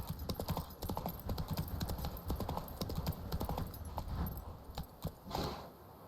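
Galloping hooves of Roach, the horse from The Witcher 3, drumming in a fast rhythm and close, thinning out toward the end amid game ambience.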